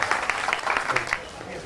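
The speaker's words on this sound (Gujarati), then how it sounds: "આપ સૌને વિનંતી જોરદાર તાળીઓથી આપણે એમને વધાવીશું." Applause at an association event welcoming guests: a short burst of dense clapping from a crowd, moderately loud, fading after about a second.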